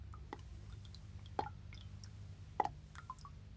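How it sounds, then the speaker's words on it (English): A few soft watery plops, two clearer splashes among quieter drips, over a low background hum. "the sounds of fish plopping in the water"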